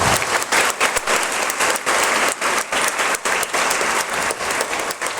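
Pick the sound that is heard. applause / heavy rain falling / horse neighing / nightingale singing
applause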